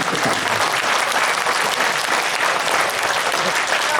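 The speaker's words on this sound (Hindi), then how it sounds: "ये बड़ी तालियों वाली बात है, थोड़ी कम रह गई।" Sustained loud applause from an audience at a Hindi kavi sammelan poetry gathering, a dense even wash of clapping lasting throughout with no speech over it.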